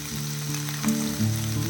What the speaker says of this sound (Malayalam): അപ്പം അതിൻ്റെ കൂടെ നമ്മൾ കട്ട് ചെയ്ത് വെച്ചിരിക്കുന്ന വെണ്ടയ്ക്കയും സവാളയും ഇട്ട് കൊടുക്കാം